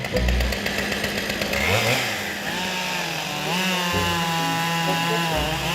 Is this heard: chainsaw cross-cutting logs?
yes